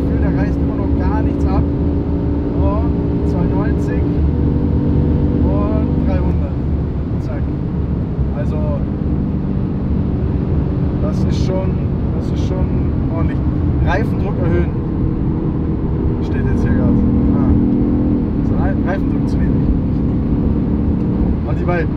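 BMW M5 CS accelerating hard at very high speed on an open road, engine and tire roar forming a steady loud drone with wind rush throughout, while people talk inside the car.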